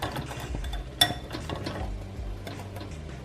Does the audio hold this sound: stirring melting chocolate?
yes